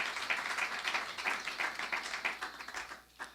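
A church congregation claps and applauds in a steady, rhythmic wave of many hands, fairly close and full, fading briefly near the end.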